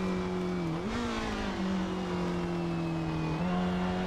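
A Ferrari 250 historic GT racing car drives in Assetto Corsa, its engine droning loud and steady with a dip and recovery in pitch through a gear change or corner, then a second lift near the end.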